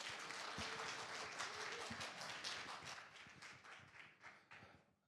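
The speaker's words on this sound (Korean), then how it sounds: "환영의 박수 부탁드립니다." An audience at a conference claps in welcome for a speaker: a dense patter of many hands that holds steady, then thins and fades toward the end.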